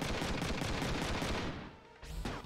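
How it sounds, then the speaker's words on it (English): Rapid automatic gunfire from the video game Front Mission 3 rattles in a dense, steady burst of repeated shots, tapering off briefly before another short blast at the end. "I'm shooting first."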